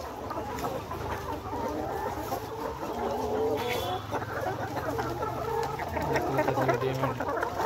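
Nourish layer hens cluck on a poultry farm, a dense and continuous flock chatter with overlapping calls at steady loudness throughout.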